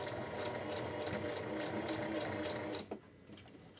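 A sewing machine runs steadily and fairly faintly while stitching a lining into a granny square tote, then stops after about three seconds with a soft clunk.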